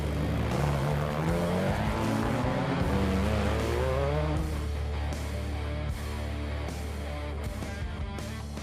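Class 10 off-road race cars launching at the start of the Mint 400 desert race, several engines roaring together, rising in pitch and sweeping past at a distance, loud and continuous with no talk.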